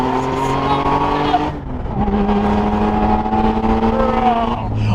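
A supercharged 1991 Porsche 911 Safari engine revs and accelerates hard, loud and close with a steady harmonic whine rising in pitch, while someone talks over it.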